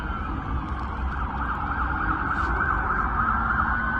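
Police car sirens wail continuously in a steady, loud wash, several vehicles blending together with a dense rumble of traffic and crowd noise beneath, no voices standing out.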